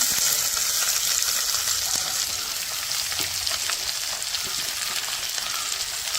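Ivy gourd (kovakka) frying in a pan with chilli, onion and curry leaves, giving a steady, close, hissing sizzle that holds evenly throughout with no talk.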